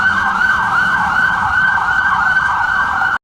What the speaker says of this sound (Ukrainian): Пожежна машина виїхала з депо і мчить просто в центр міста